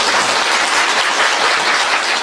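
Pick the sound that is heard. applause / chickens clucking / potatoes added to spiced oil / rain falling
applause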